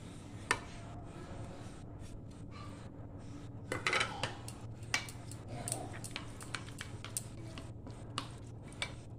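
Grated carrot, capsicum, chilli, potato and tomato mixed with semolina in a bowl, heard as irregular soft scrapes and clicks of a spoon against the dish over a faint background hum.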